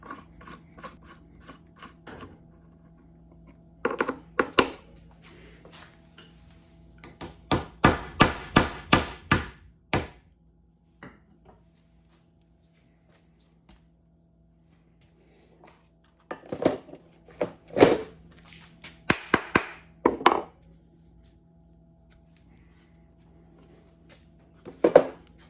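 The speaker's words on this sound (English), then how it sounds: "First we're going to punch a 1/2 inch hole into the coin" A hand punch drives a half inch hole into a pure silver coin, heard as clusters of close mechanical clicks, ratcheting and metallic knocks separated by quiet stretches, with no talk.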